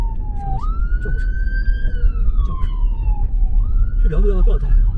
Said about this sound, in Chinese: 什么东西？ 救护车。